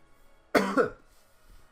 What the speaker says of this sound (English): Sorry if I cough.